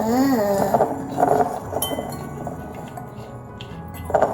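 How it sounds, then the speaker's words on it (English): Olive oil and vinegar whisked in a glass bowl, bright clinks of the whisk against the glass under a voice and other talk nearby. "you need to mix the oil and the vinegar"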